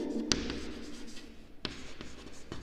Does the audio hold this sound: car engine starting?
no